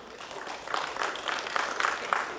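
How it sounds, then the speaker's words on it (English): A round of applause from a conference audience, starting thin and swelling into moderate, irregular clapping with a few louder bursts, somewhat distant in the room. "give her a round of applause so she can continue to do this with the shift"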